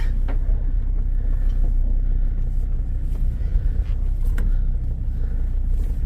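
A long-wheelbase vehicle maneuvers after missing a turn, its engine producing a close, steady low rumble with faint knocks and rattles throughout and no talk.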